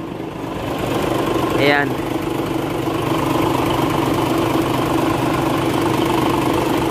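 Isuzu Gigamax truck with a 6WF1 engine idles steadily throughout, a constant mid-range diesel drone, with someone speaking briefly over it near the start.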